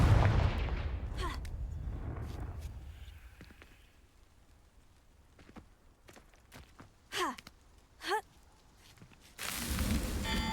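Confringo fire spells blast in the video game Hogwarts Legacy: a deep rumbling burst opens, followed by several sharp whooshing hits and a final loud surge of noise.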